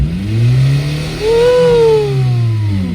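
A 2008 Honda Civic Si engine with a weird clacking fault revs up and down close by, its pitch climbing and falling twice over a few seconds, loud and alone.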